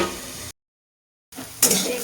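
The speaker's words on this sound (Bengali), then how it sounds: "একটু নেড়ে চেড়ে নেবো ভালো করে। এটা ভাজা করে নেবো ভালো করে" Vegetables fry and get stirred in a pan in short bursts of sizzling and scraping, broken by a stretch of silence, with a louder hiss flaring at the end.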